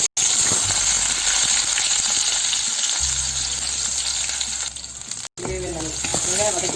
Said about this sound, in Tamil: 2 வெங்காயம் நறுக்கி வச்சுருக்கேன், அதையும் போட்டுடலாம்.